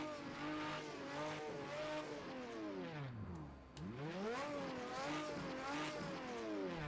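Ferrari 512M with an Italian V12 racing in Project CARS 2 at Le Mans, engine screaming loud and close through rising gear sweeps, dipping briefly around midway before revving hard again, with no voices.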